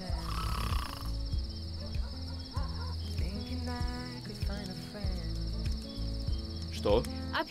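Crickets chirp steadily in a night scene of the video game Road 96. The constant high trill runs under low music and other game sounds, and brief vocal sounds come through at moments.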